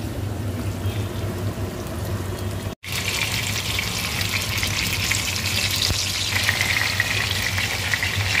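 Eggplant slices sizzle in hot oil in a pan, a loud, steady, crackling fry that runs on continuously after a brief cut.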